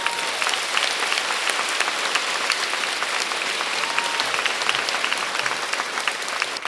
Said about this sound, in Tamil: இப்ப எல்லாருக்குமா சேர்த்து ஒரு பெரிய கைத்தட்டல்